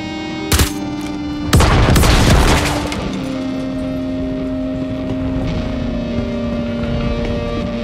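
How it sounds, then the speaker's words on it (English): Laser fire in the Star Citizen video game: a sharp blast followed by a louder burst of crackling shots, then a lingering tonal hum fading in the background. "More laser beams."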